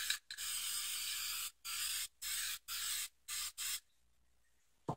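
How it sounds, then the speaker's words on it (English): Black spray paint hissing from an aerosol can in a series of bursts: one long spray, then several shorter blasts with brief gaps, close and steady, ending in near silence. "I'm gonna spray a little bit of black here too."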